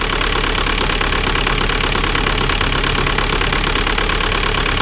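A 2003 Volkswagen Jetta TDI turbo diesel idles roughly nearby with a loud, uneven clatter that knocks without a break.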